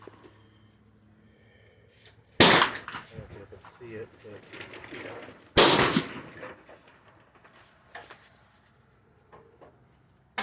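Gunfire from a rifle with a 16 inch chrome-lined barrel at a 200 yard outdoor range, two sharp loud shots a few seconds apart, each with a short decaying echo, with faint quieter noises between.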